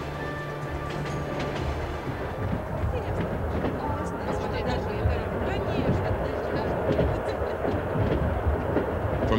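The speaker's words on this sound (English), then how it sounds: "the romance of train travel quickly disappears as this little village on wheels snakes its way towards Siberia" A Trans-Siberian Railway passenger train from 1990 rumbles along with a steady rolling clatter of wheels on track, while a voice talks over the continuous noise of the ride.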